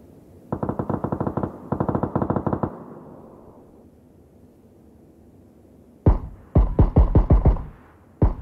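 Automatic gunfire in PUBG on PC comes in two rapid, evenly spaced bursts, then pauses before a second cluster of louder, heavier shots breaks out close by, with no talking.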